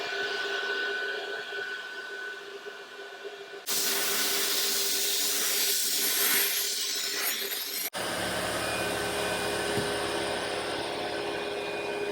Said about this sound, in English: Step two, into the blast cabinet.